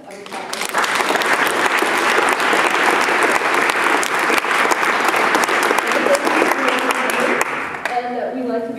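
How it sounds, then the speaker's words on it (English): A forum audience at the University of Washington Tacoma breaks into loud, dense applause, many hands clapping close and steady for several seconds before it cuts off abruptly near the end, leaving faint room sound. "I'll ask you to give everybody a round of applause."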